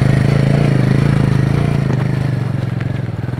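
A motorcycle ridden off-road in Ladakh, its mid-pitched engine chugging in a steady, loud, close rhythm throughout with rattling and clatter.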